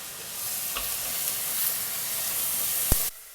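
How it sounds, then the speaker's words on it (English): Mirepoix vegetables sautéing in a pot for a chicken stew, a constant close hiss and sizzle with occasional stirring scrapes and a brief clink near the end before it cuts off. "we'll take our mirepoix and add everything in. This you want to quickly saute for maybe about 4 to 5 minutes"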